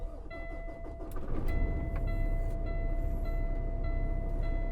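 A 2020 Kenworth W990 truck engine cranks and catches, then settles into a steady idle with a faint whine riding over the low rumble.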